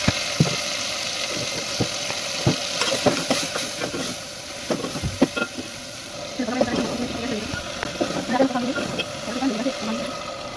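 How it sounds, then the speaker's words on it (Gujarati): Chillies and spices fry in a pan with a steady, hissing sizzle broken by clattering stirs, while a person speaks over the cooking. "સૌથી પહેલાં મરચાં નાખી દઈશું જો એકદમ શેકી જાય મસ્ત."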